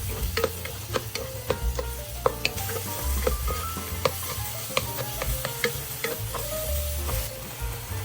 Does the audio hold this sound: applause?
no